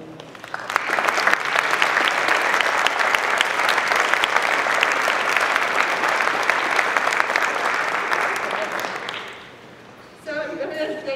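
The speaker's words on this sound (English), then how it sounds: "Let's give them a round of applause." A crowd applauds students at a legislators' breakfast with dense, loud, sustained clapping that starts quickly, holds for about nine seconds, then fades, followed by a brief burst of talking.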